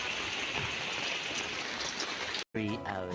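Steady rain pours down as a loud, dense hiss for most of the stretch, then cuts off abruptly and a person starts talking.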